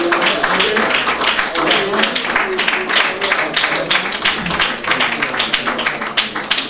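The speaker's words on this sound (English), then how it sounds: "let's give our brother a round of applause" An audience gives a round of applause at a religious gathering, dense continuous clapping throughout, loud and close, with voices mixed in.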